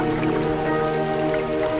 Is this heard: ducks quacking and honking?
no